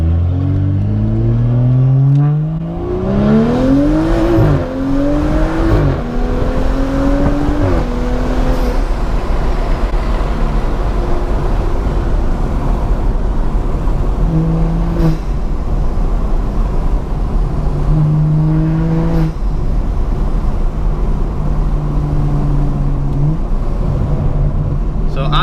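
BMW M235i fitted with a Dinan intake accelerating hard, engine note rising through gears with a loud, close whooshing release resembling a turbo blow-off, then steadier cruising drone with brief rises.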